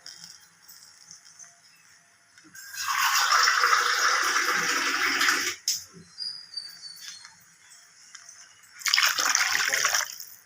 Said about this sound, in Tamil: குழம்பு ஒரு அஞ்சு நிமிஷம் நல்லா கொதிக்கணும்